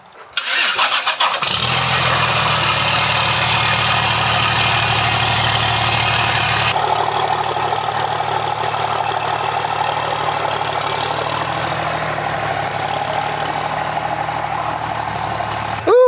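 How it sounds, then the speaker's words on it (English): A hood-stacked Cummins diesel dually pickup cold-starts loudly after a short crank, then settles into a steady, rumbling idle close by, with no talking over it. "Try to get a quick cold start here."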